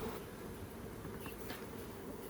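Honeybee swarm buzzing steadily and continuously, a dense insect hum at moderate level with no talking, heard during a high-off-the-ground swarm capture.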